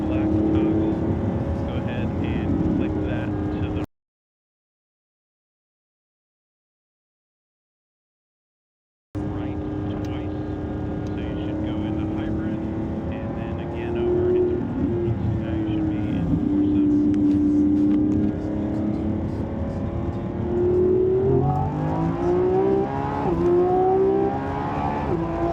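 Lamborghini Revuelto engine in Corsa performance mode heard from inside the cabin, a loud continuous roar with rising and falling revs, broken by a few seconds of silence.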